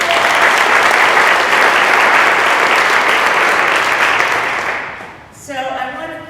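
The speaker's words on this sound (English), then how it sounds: "give yourselves a big round of applause" Audience at a downtown revitalization press conference with a governor applauding, loud sustained clapping that fades out after about five seconds before a voice speaks over a microphone.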